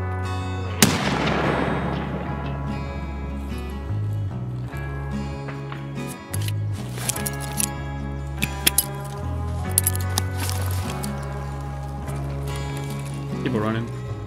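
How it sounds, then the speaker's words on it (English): Grenade thrown and detonating in a military shooter game, a sharp loud blast near the start over a constant low engine-like drone, followed by scattered gunshot cracks and clatter as a voice talks throughout. "I'm gonna throw a nade, see if it's a scav."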